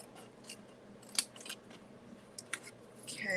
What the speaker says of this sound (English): I'm going to cut off a little slice here and do the same on this side.